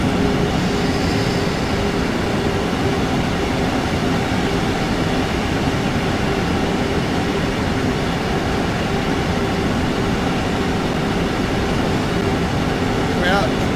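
A crowded passenger train in Train Sim World 2 runs at speed with a constant loud rumble and rolling rail noise, a steady mechanical drone from start to finish.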